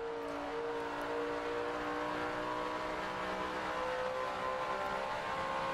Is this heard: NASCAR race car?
yes